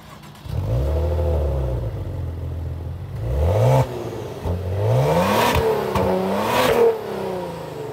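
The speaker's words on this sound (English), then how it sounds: "At least this Ferrari-derived 3-liter twin-turbo V6 gives you something to smile about." Maserati Ghibli's Ferrari-derived 3-liter twin-turbo V6 revs hard and loud, climbing through several rising surges with a brief dip between, close and with no talk over it.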